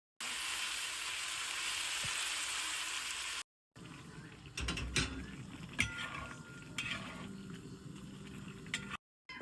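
Meat sizzles in a pan, a hissing crackle that runs steadily at first, then continues more unevenly with clanks and scraping from stirring, close by with short gaps of silence.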